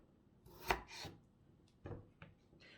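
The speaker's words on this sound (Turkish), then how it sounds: "Evet patatesleri böyle küçük küçük doğradık." A few sharp knife chops through potatoes on a board, sparse and close, with brief scraping sounds between the strokes.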